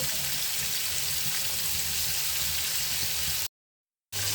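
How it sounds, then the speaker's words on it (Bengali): Fish frying in a pan over the stove, a steady, fairly quiet hiss and sizzle with low bubbling underneath, broken by a brief cut to silence near the end, no talking. "মাছ ভাজি করছি।"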